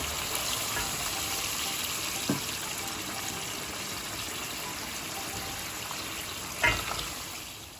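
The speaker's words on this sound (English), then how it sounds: "I'm going to add boiling hot water from the kettle" Boiling water poured from a kettle into a pot holding soaked rice, a steady close liquid pour with small splashy bumps near the start and end.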